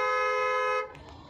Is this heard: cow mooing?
no